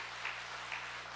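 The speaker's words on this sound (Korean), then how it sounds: "박수해 주시기 바랍니다." Church congregation applauding, a soft, distant, steady patter of clapping under a low hum of the room.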